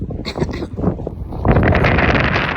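A brief voice gives way to loud, steady wind rushing and buffeting against the microphone, close and roaring.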